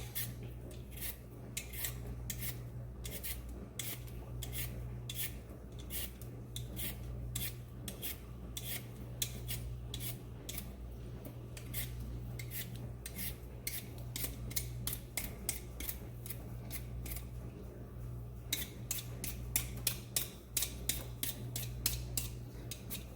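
A sweet potato is peeled with steady, rhythmic rasping scrapes, one after another at close range with no talking, continuing throughout and speeding up near the end.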